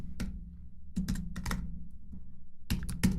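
Close computer keyboard typing while writing code: short bursts of quick key clicks separated by pauses, over a faint low hum.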